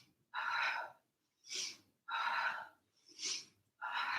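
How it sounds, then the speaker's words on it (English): Rapid rhythmic exercise breathing with alternating forceful exhales and quick inhales, five breaths in quick succession, close and clear with no talking. "Now start to get faster and move with the breath. Exhale, inhale. Exhale, inhale. So the breath will quicken."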